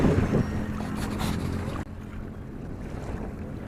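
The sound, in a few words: river water flowing in waves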